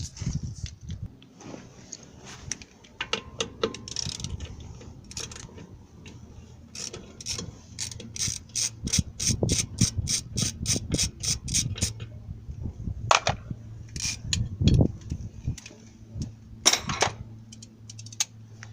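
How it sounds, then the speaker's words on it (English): Metallic clicks and ratcheting bursts from a wrench removing two bolts on the rear axle hub of a 2000 Toyota Tacoma, close and irregular, with rapid ratchet runs in the middle. "you're going to do that by removing these two bolts."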